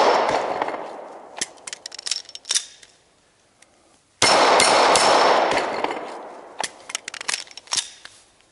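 A Glock-style pistol is handled with sharp metallic clicks and clacks as the slide is pulled back over the top and released, a string of crisp close-up impacts with a brief noisy rustle in between.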